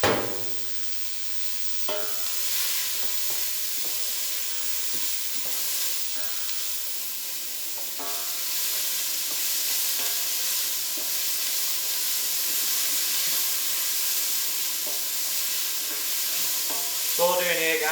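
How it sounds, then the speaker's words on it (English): Onions, peppers and carrots sizzle steadily in a hot pan for a bean and halloumi stew, a loud continuous frying hiss broken by occasional scrapes and knocks as they are stirred. "Just giving that a stir up."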